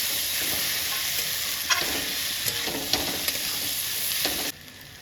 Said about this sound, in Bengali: তো আমার মাশরুম ভাজা হয়ে গেছে